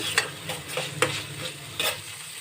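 Poha puliyogare mixture being stirred in a pan, a run of irregular scraping and tapping strokes with a soft sizzle underneath, close and fairly quiet, with no voices.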